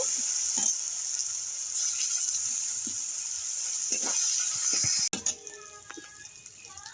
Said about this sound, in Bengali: দেখুন বন্ধুরা আদাটা ভাজা ভাজা হয়ে গেছে